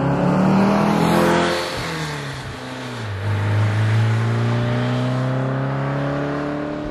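A 1966 Porsche 912 with its four-cylinder engine is heard driving, a loud, close engine note whose pitch dips and then rises steadily as it accelerates. No one speaks.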